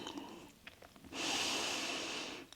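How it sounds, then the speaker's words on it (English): Slow, steady breath during a gentle seated yoga spinal twist, a long drawn exhale or inhale lasting over a second, close and soft, with quieter breaths around it and no talk. "Just breathing here and releasing."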